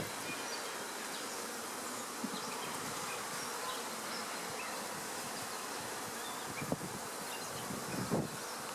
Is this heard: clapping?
no